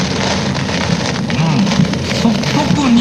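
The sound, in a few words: heavy rain during Typhoon 21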